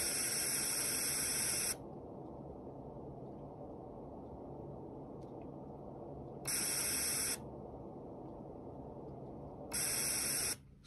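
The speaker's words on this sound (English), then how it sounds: "White noise." Steady hiss of white noise through a low-pass FIR filter on an FPGA, mostly muffled and dull, broken three times by brief bursts of brighter, full, sharp hiss.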